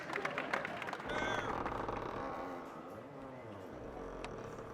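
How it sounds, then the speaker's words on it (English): A crowd swarming through castle gates into a courtyard in a carnival mood, a dense wash of cheering, clapping and babble with scattered louder calls, steady throughout. "The crowd is swarming around us to get in."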